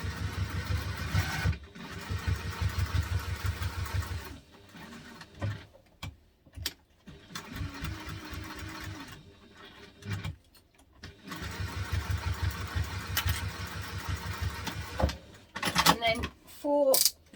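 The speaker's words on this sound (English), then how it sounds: "we're going to top stitch around it, and then we're going to do an X in the middle." A sewing machine top stitches around the edge of a small teddy backpack, running in steady bursts of several seconds with short pauses between them.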